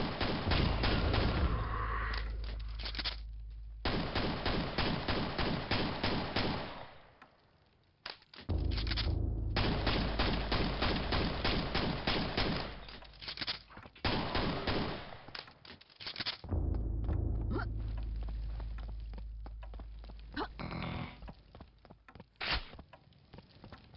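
Enemy gunfire in the first-person shooter Quake crackles in dense rapid bursts, loud and close, separated by brief quiet gaps, with no voices over it.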